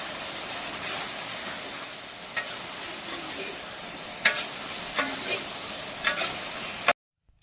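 Fried fish pieces tipped into sizzling gravy for chilli fish and stirred: a steady close sizzle broken by a few spoon clinks and scrapes, then a sudden cut to silence.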